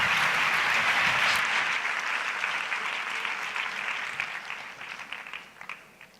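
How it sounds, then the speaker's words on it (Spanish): Applause from a large audience in an auditorium at an education innovation conference in northwest Murcia, dense and loud at first, then gradually thinning out with a few scattered claps near the end. "¡Un fuerte aplauso!"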